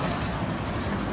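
A roller coaster train at a Six Flags amusement park runs along its track with a steady, loud rumbling roar and no break, close by, with no talk.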